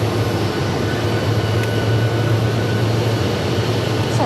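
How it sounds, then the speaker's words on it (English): Aircraft noise at Phoenix Sky Harbor Airport as an American Airlines airliner taxis or departs: a steady, continuous low rumble and engine drone held at an even level throughout, with no talk. "That looks like American Airlines flight 2665, making its way from Phoenix to Fresno."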